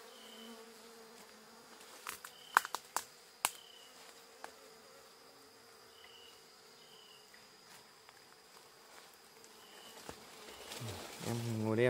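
A honeybee swarm gathering in a tree stump outdoors gives a steady, faint buzzing drone that runs throughout, with scattered knocks and handling noises and a louder rustle at the end.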